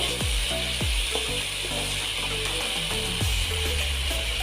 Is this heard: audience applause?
no